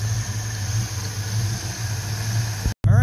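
A Ford Mustang V8 with a freshly swapped intake runs on the road, giving a steady low engine drone with a faint whine above it, briefly cut near the end.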